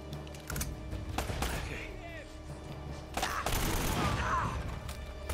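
Gunfire crackles in a shootout in Uncharted: Drake's Fortune, with sharp bursts near the start and again past the middle, under a man's ongoing speech.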